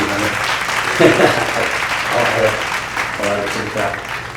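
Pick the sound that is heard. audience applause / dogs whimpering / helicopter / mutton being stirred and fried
audience applause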